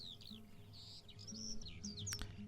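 Birds chirp and tweet in quick, high repeated calls over a sweet, summery studio track, a steady low musical bed running beneath the birdsong throughout.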